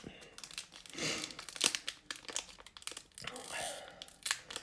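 Crinkling plastic wrap being torn open from a magazine package, a series of close, sharp crackles and rustles in bursts with brief pauses, with no talking.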